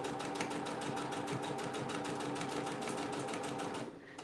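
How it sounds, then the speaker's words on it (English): A sewing machine stitches a Bible bag in one steady, fast, rhythmic run that stops abruptly near the end, close and continuous with no talk. "I'm up sewing a Bible bag for an Etsy customer."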